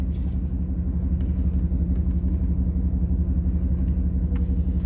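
Heavy truck, likely from Texas, rolling along a road, heard from inside a vehicle as a steady, loud low rumble of engine and tires that holds throughout without a clear pass-by peak.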